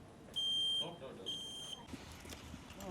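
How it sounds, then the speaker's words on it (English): Combination smoke and carbon monoxide alarm at a local daycare, two short piercing electronic chirps heard close and loud, with people talking in the background. "Local daycare here had smoking carbon monoxide alarms chirping."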